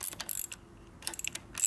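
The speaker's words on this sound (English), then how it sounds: "go and get your wrench in here and bring her on up" Ratcheting wrench clicks in short bursts while tightening a nut on the primary of a 1972 Harley-Davidson XL Ironhead Sportster, with quick close metallic clicks separated by brief pauses.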